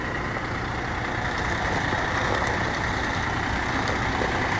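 A brand new 2022 Kenworth truck rumbles with a steady engine drone and broad road hiss, continuous and moderately loud, with no break over several seconds.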